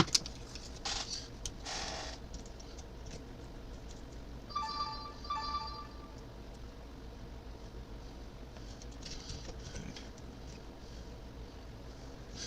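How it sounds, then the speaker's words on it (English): A mobile phone goes off indoors with a short pair of electronic tone bursts midway through, standing out over a steady low background hum and a few faint knocks. "Sorry about my phone going off."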